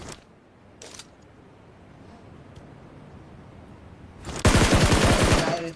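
A spray of automatic gunfire from the BGMI mobile battle royale game. A couple of brief shots come first, then a loud, rapid burst crackles for over a second near the end.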